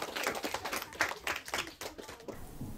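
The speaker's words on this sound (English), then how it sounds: "could we all just give Anna and Christine another really big round of applause?" A school audience at Wycombe High School applauding, dense overlapping claps forming a continuous rattling wash that fades toward the end.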